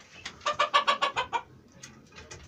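A small flock of hens with a rooster clucks in a quick run of about eight sharp, evenly spaced calls, followed by softer, scattered clucks nearby.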